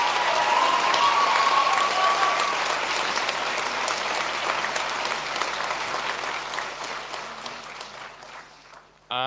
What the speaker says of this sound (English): we need to give a massive round of applause to all our tutors